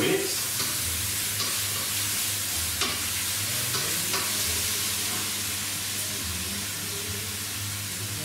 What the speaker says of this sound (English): So now I'm gonna add the said mushrooms. Cook for a further couple of minutes.